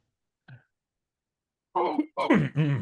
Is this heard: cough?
yes